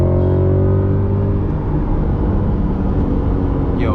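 Chevrolet C8 Corvette Z51 with the Performance Package produces a loud, close, continuous engine roar that holds steady for a few seconds, heard from the driver's seat with no talking.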